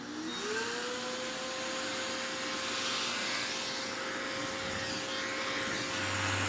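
A Pro Vacuum Tech 5-in-1 grooming vacuum spins up with a rising whine, then settles into a loud, steady suction roar close by, with a deeper hum joining near the end and no voices.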